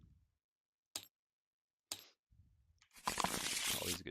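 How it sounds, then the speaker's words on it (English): Gloomhaven board game cards are handled and shuffled at close range: two sharp isolated snaps, a short soft rustle, then a few seconds of dense, continuous riffling. "Always a good shuffle."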